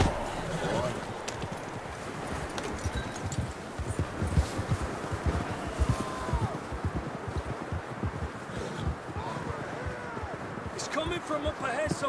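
Hooves pound in a fast, steady galloping rhythm under a dense wash of noise in Red Dead Redemption II, with voices calling out over it.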